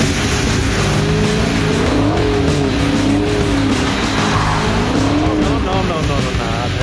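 A 600 HP Oldsmobile drifts at a CarWars car event, its engine roaring loudly throughout under a wavering, sustained tire squeal. The sound is close and continuous.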